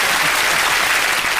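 Studio audience at a Sooty comedy show applauding, a brief, loud and dense burst of clapping close up with no talk.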